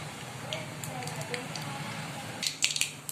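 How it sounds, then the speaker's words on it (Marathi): Quiet sizzling of mustard seeds and cumin in hot oil with scattered sharp pops and crackles, bursting more densely toward the end. "मोहरी तडतडल्यानंतर"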